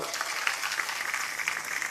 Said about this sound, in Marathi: तर त्या बाबासाहेबांच्या नातवासाठी एकदा जोरदार टाळ्या होऊ द्या बांधवांनो